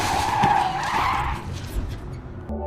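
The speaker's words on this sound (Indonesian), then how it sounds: "tiba-tiba saja wanita itu ditabrak oleh mobil lain." Tires screech loudly as a car skids in a film scene where it hits a woman. A long, close squeal fades out, followed by a brief low thud at the end.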